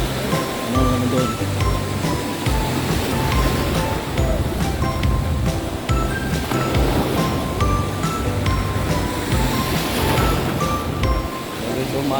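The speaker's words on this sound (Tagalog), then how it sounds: "Maalon siya." Rough sea waves wash and churn around a fishing boat out on open water during net fishing, a loud, continuous roar with some low rumble and occasional knocks.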